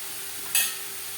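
Carrots being stirred with garam masala in a pan for carrot laddu, a short single scrape-and-sizzle burst rising briefly over a steady frying hiss.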